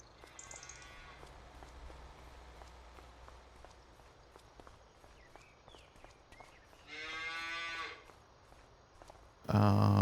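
Cattle mooing on a farm in the Farming Simulator map Schwesing Bahnhof: a few drawn-out moos, one loud and close near the middle, over steady farm ambience and light footsteps, ending with a sudden loud thump.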